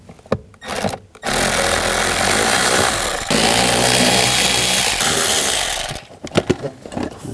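Screws are driven out of the blower motor on a 2003-06 Infiniti G35, with a loud, close, whining tool burst lasting several seconds between short clicks and handling knocks.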